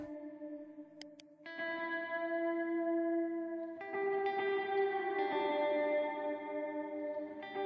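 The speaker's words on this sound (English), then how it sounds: "And you hear the reverb still happening" Sustained reverberant tones ring and shift from reverb continuing on a muted Pro Tools track, washing over each other with a smeared, echoing tail; no voices, just lingering processed sound.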